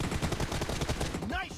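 Rapid automatic M416 rifle fire in a team deathmatch video game, a steady close stream of shots with a brief electronic chirp near the end.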